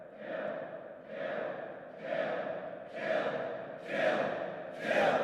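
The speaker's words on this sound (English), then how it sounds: "And so there's a crowd chanting, kill, kill, kill, which sounds like this." Sound-effect crowd chanting in game theme music, six rhythmic swelling shouts about a second apart, each rising slightly louder, massed voices with breathy grunting texture.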